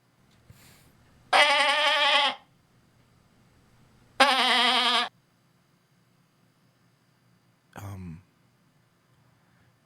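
A goat bleats in two long, wavering calls a couple of seconds apart, followed by a shorter, clipped bleat, all fairly loud against a quiet background with no talking.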